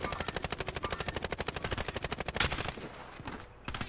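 Rapid, loud gunfire in the video game Call of Duty Warzone: a steady stream of evenly spaced shots for over two seconds, then a heavier crack, fading into scattered quieter distant shots.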